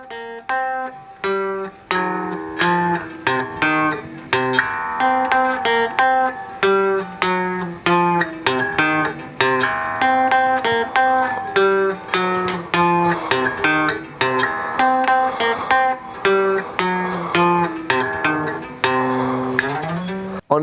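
A short, easy guitar riff of plucked single notes, played steadily for about twenty seconds on an acoustic guitar. The notes ring clearly at a moderate volume with no talking over them.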